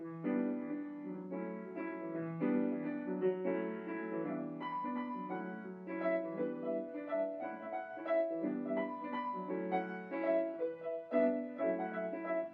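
Piano playing a continuous rolling, repeating figure of notes, even and flowing, at a moderate volume throughout, on a 1959 jazz recording.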